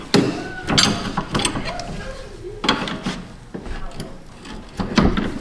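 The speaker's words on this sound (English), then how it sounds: "Let's get that wrench up in here." Wrench turning a bolt on a sway bar link under a Hyundai Tucson, close ratcheting and metallic clanks in irregular bursts, with some speech in the background.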